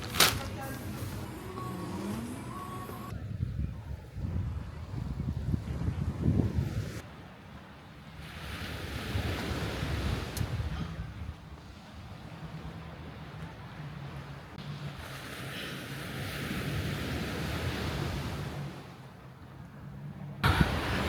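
Strong wind blows outdoors in Guadeloupe, buffeting the microphone in rumbling gusts that rise and fall over about twenty seconds, with someone speaking in French now and then through the noise.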